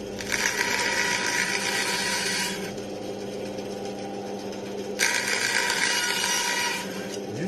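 A Metabo BAS261 band saw slicing a very thin strip, with two bursts of bright, rasping cutting noise over the machine's steady motor hum, separated by a quieter stretch where only the motor runs.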